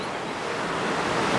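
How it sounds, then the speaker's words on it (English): River water flows steadily below while someone walks over a river on Jeju in mid-July, a continuous broadband rush mixed with some wind, close and even in level. "Just walking over a nice river right now."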